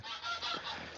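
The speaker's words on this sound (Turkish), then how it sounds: "gurkazların yanına gidelim mi gurkazların?" A goose honks loudly and close by, two or three nasal blasts in quick succession with no other sounds.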